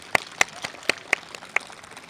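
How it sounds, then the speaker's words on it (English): Sparse, scattered handclaps from an audience at an elementary school awards ceremony, a few distinct claps spaced irregularly rather than a full ovation, fairly quiet. "Let's give him a round of applause."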